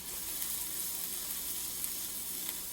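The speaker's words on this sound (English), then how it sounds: "Hear that sizzle?" Garlic sizzles steadily in a pan while being stirred, a close, even frying crackle with small pops and no talk over it.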